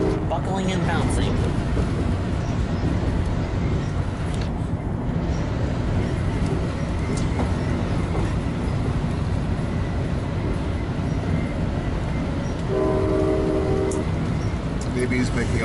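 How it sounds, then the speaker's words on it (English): Passenger train running at high speed across the rails on a journey toward Great America Levi, a steady dense rumble and rattle throughout with a brief horn-like tone near the end, under intermittent talk. "We're buckling across the rails at high speed."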